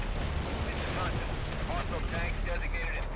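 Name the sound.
tank buster air strike in World in Conflict video game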